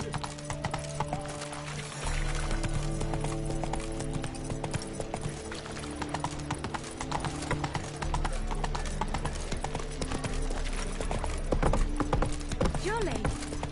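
Roach the horse gallops in The Witcher 3, rapid clip-clop hoofbeats running continuously beneath game music, with a brief neigh and some talk in the background.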